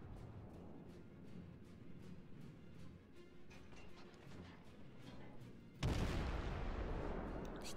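World of Warships naval guns firing, a series of regularly spaced low thuds under game ambience, then a much heavier, sudden boom that rumbles on to the end.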